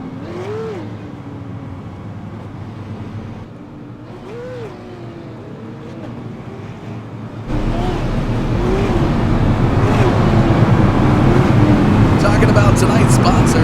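Race cars pacing at South Boston Speedway make a steady engine drone with a rising whine. The roar swells noticeably louder partway through and continues under a commentator's voice.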